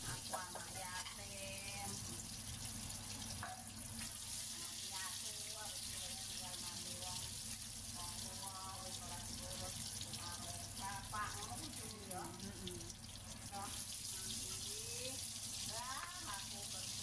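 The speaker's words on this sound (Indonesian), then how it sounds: "kita goreng dengan cara melumurinya ke dalam telur tadi dahulu. Goreng sampai kuning keemasan." Egg-coated risoles stuffed with spicy shredded chicken fry in hot oil, giving a steady, dense sizzle that runs unbroken from start to finish at close range, with faint scattered pops and no talking over it.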